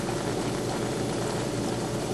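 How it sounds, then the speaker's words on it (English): Water poured into a small test kit vial for a 55-gallon reef aquarium, a steady continuous trickle and splash, close and even throughout with no talking. "Okay, so we're going to pour water."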